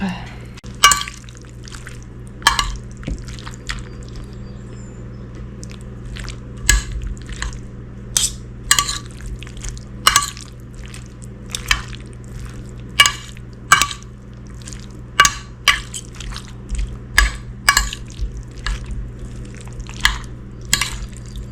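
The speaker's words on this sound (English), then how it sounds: "Mix all this up." Beef and vegetables stirred into Alfredo sauce make wet squishing, sloppy sounds in repeated irregular bursts, close and fairly loud, with a person talking.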